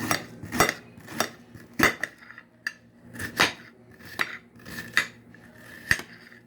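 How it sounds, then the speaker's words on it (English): Sharp knife chops strike a cutting board in a loose, steady rhythm, each a crisp click or thud, close up with no talking, while cutting vegetables for Puerto Rican sofrito. "So I split it down the middle like that fast, with a sharp knife. Then I just cut."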